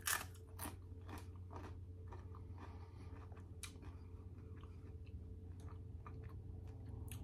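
Crunching bites into crisp microwave-crisped Hormel sliced chorizo chips, a series of sharp close crackles and chewing clicks scattered irregularly over a quiet low hum.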